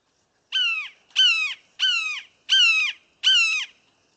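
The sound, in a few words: red-shouldered hawk call, played recording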